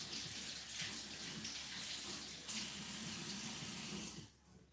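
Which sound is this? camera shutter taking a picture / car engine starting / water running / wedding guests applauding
water running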